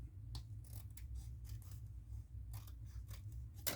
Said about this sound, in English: I'm cutting the excess off on my file folder